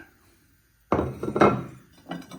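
After a quiet moment, handmade ceramic plates clink and clatter together close by in a short burst of handling, followed by one more light knock.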